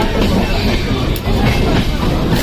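A passenger train runs along the line with a loud, steady rumble and rattle of the carriages, continuous and close throughout.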